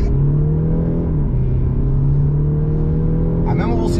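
An Audi A7 with 4x4 drive, tuned from 320 to 400 hp, pulling away hard on launch control, its engine a loud, steady low drone with a rising tone near the end, heard from inside the car.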